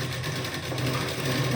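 A sewing machine runs a seam on a lined lehenga blouse, giving a fast, steady mechanical whir at close range with no pause and no talking.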